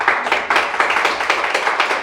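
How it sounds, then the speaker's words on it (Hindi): A church congregation claps during a Hindi sermon, a dense run of sharp hand claps with a steady, slightly uneven rhythm, fairly loud and close. "अच्छे से ताली बजा दीजिए।"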